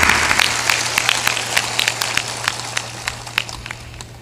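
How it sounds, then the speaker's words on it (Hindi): An audience at a religious discourse gathering claps in a crackly, scattered burst, sharp irregular hand claps from a crowd continuing for several seconds at moderate loudness, with no speech over it. "ताली बजा दो इनके सम्मान।"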